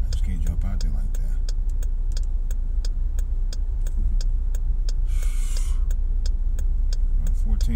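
Cars in road traffic roll past close by with a steady low engine rumble, while regular clicking ticks and a brief hissing burst sound over it.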